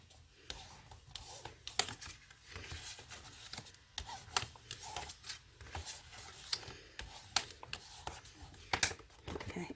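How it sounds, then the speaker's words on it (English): Paper is folded and burnished along score lines from a Scor-Pal board while making a box, with quiet, uneven rubbing and crisp taps and swipes spread through the whole stretch. "So now let's just fold and burnish on all those score lines."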